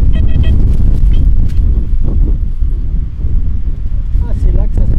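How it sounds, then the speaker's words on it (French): Strong wind on the Brittany coast buffets the microphone with a loud, constant low roar and rumble throughout, fully masking any other sound. "Ça souffle vraiment très fort en ce moment sur les côtes de Bretagne"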